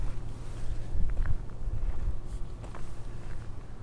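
Steady low wind rumble buffeting a Synco G1 A2 wireless microphone outdoors in a breezy spot, loud and close, with gusty low-end thumps and faint footsteps as the wearer walks around.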